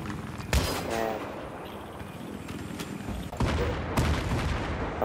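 Gunfire in a video game firefight, sharp cracks and bursts at intervals over a constant rumbling background, with a louder cluster of shots near the end.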